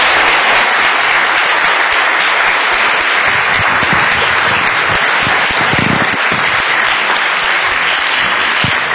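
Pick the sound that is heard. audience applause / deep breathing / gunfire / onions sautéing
audience applause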